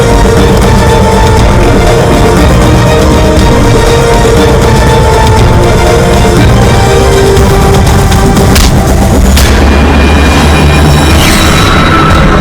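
Gunfire and explosions from a CID crime drama on Hindi TV crash loudly over a dense, steady music score, with a heavy blast bursting out near the end.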